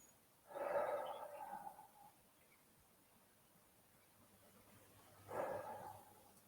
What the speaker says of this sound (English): take in a couple of deep breaths with the mouth open